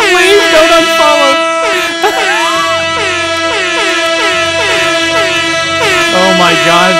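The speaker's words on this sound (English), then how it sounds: "The domestic Airhorn." A domestic air horn blares loudly and steadily for several seconds in a string of wavering, pitch-bending honks, close up and dominating, with a voice faintly underneath.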